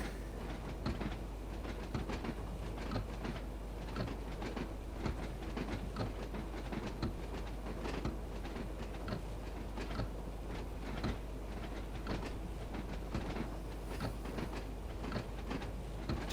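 Train wheels in Train Sim World 2 rumble with a continuous clickety-clack over a dense, steady rolling roar, the rhythmic rail-joint clicks repeating throughout.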